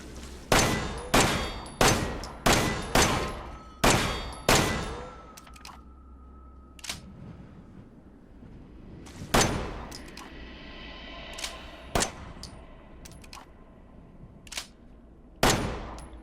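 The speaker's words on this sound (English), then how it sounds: "now I'm going to go ahead and switch to enhanced ammo and see if the fire sound is any different" Handgun shots loaded with enhanced ammo in Resident Evil 7 ring out as a rapid string of sharp, loud reports. A quieter stretch with metallic clicks follows, then several more single shots with echoing tails.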